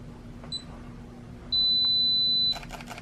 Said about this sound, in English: I also have my self-timer programmed to when I do a picture, it takes 4.